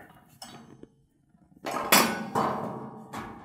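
A metal cable-machine bar set down after cable skull crushers, with a few close metallic clanks and clinks, the loudest near the end, each ringing briefly in a gym setting, with no talk.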